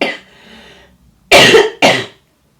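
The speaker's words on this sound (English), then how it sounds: "Cough's nearly better." Two sharp, loud coughs from one person close by, in quick succession after a faint breathy moment.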